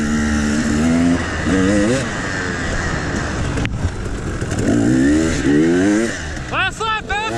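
A race car engine drones and revs on the last lap of the 2021 Red Fox TNT Buddy Race. The loud, close engine tone shifts through gear changes, and a voice speaks under it.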